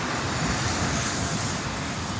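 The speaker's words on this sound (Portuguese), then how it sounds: "vento fresquinho" Cool southerly wind blows through Porto Alegre as a continuous broadband rush and microphone buffeting, steady and loud with no pauses.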